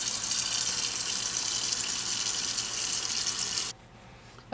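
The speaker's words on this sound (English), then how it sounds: "Fill it up with water." Tap water runs hard and steady into a Tasty boiling pot for several seconds, then cuts off abruptly, leaving a low background hum.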